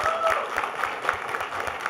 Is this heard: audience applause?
yes